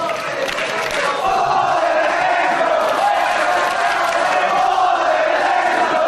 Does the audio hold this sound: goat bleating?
no